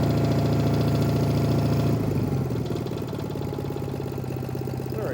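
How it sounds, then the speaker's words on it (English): The engine of an old Case trencher runs rough and loud at a high idle. Partway through it drops to a lower, steady, throbbing idle that keeps chugging on its own. "Let's lower the idle a little"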